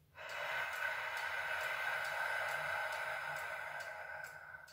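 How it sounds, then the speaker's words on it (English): One long, steady exhale during a breathing exercise with the tongue pressed to the roof of the mouth, close and breathy, lasting about four seconds with no speech. "Exhale."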